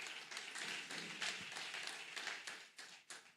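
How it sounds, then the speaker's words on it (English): Faint audience clapping at an NIESV Ondo professional seminar, a scattered patter of hands that thins into a few separate claps toward the end. "Thank you for clapping for them."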